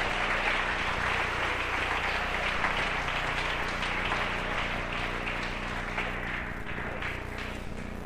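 A church congregation applauds during an evangelical service, with steady, dense clapping that fills the room and continues without a break.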